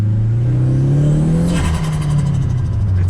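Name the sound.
car engine accelerating on drive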